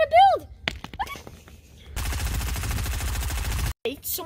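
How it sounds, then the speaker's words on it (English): Rapid automatic gunfire rattles in the video game Fortnite, a steady burst of close, loud shots lasting nearly two seconds. Game sounds come before it and a voice speaks briefly near the start. "Someone's shooting at me."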